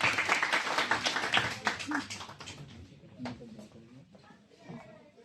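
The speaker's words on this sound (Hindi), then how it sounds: "थैंक यू सर के लिए जोरदार तालियां" Audience applause at a 26 January Republic Day celebration, a dense burst of clapping for the first two seconds that quickly dies away, with talk running over it and continuing afterward.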